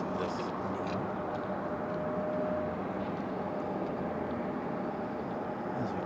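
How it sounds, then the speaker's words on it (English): A Frontier A321neo airliner approaches to land at Raleigh-Durham airport as a broad, steady roar that holds loud and even throughout. A faint tonal whine rises briefly in the middle of the pass. "This one's Frontier 2440 coming in on an A321 Neo."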